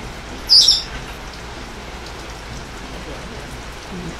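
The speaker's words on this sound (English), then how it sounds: "she's just enjoying the sound of the rain on the gazebo" Steady, dense patter of rain on a gazebo roof, constant and close, with one brief high chirp near the start.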